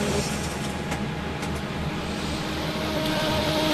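A race car engine at Le Mans in Project CARS, heard through the Porsche curves: a loud, continuous engine roar with a steady pitch and no talk.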